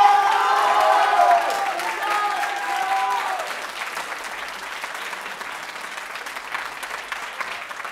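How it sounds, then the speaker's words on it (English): Concert audience at a Concordia Shanghai live performance breaking into applause with some cheering, loudest at first with voices mixed in, then settling into lighter, thinning clapping. "So can we give them all a big round of applause?"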